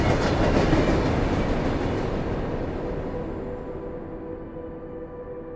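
A subway train travelling through a tunnel, a loud continuous rumble and roar of wheels on track that slowly fades and quiets over several seconds, with a faint lingering hum and no voices.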